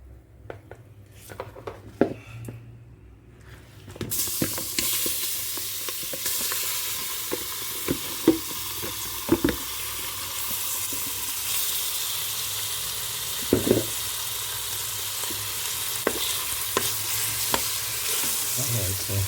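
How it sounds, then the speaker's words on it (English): Food stir-fried for Jamaican curry sizzles loudly and steadily in a hot pan, with the scrape and clatter of stirring breaking through now and then over a continuous hiss. "I'm just gonna stir fry this for about a minute, keep stirring it."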